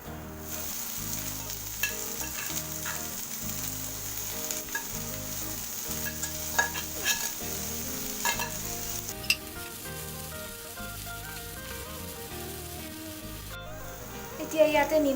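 Spinach fries with garlic and green chili in a pan, a loud, close, continuous sizzle broken by rhythmic scraping strokes of a stirring utensil, ending in a few louder clatters.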